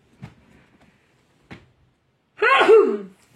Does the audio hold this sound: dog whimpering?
no